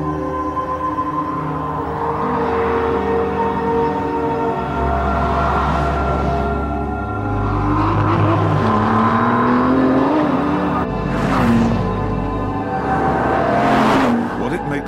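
A car accelerating hard, its engine note rising and shifting through gears in a steady loud roar, with someone talking over it.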